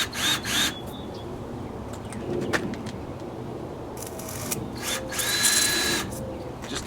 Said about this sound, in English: I'm going to put a couple screws in it just so it won't fall off